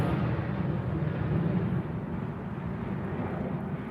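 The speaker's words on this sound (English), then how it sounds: "that's the Ryanair to Fuerteventura" A Ryanair airliner bound for Fuerteventura passes overhead near Newcastle Airport, a steady loud broadband engine roar that stays constant throughout with no voices.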